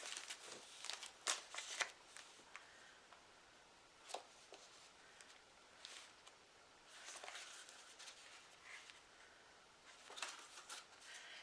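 Sheets of good-quality decorative craft paper printed with clocks, hearts, bows and florals rustle and flap as they are shuffled and handled close up, in scattered crisp bursts with quiet pauses between.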